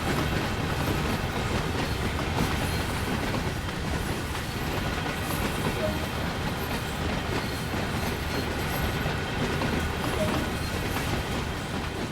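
A large freight locomotive in Train Sim World 2 gives a continuous, close rumble of engine and rolling wheels with a steady clickety-clack, and soft voices can be heard under it.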